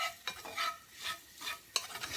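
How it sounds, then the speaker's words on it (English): A spoon stirs sausage frying in a pan for gravy, giving soft rhythmic scraping sweeps about every half second over a quiet sizzle, close and fairly faint, with no voices. "So I'm going to just stir and do what I'm doing here so you can know how to make this gravy."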